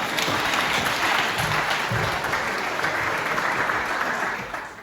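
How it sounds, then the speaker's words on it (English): Steady applause from wedding reception guests, a dense, continuous clapping that holds loud and even for nearly five seconds before tapering slightly at the end. "Round of applause for Paul and Sarah, everyone."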